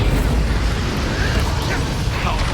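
An explosive Confringo spell bursts in Hogwarts Legacy, a loud roaring blast with crackling fiery noise that fills the whole moment.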